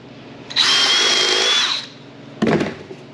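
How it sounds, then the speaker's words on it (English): Power drill cutting countersinks in wood framing during a small barn-style remodel, one loud high whine lasting about a second, then a second short burst of drilling, close by. "I'll go through all of these, add the 2 countersinks"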